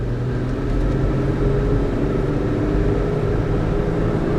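A one-owner 2017 Infiniti QX50 AWD SUV with 21,634 miles accelerating gently through the gears, heard from inside as a loud, steady low engine and road rumble with no voices.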